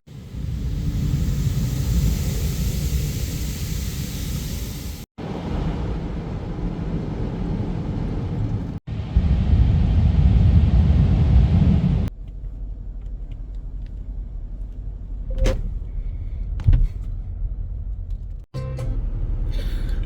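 An automatic car wash runs in Stockholm, a loud steady roar of spraying and blowing machinery that cuts between stages, ending in quieter dripping with a few sharp clicks and clunks.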